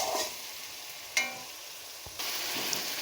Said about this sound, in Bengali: মশলাটা তেলের মধ্যে ভালো করে কষিয়ে নিতে হবে, মানে ভাজা ভাজা করে নিতে হবে।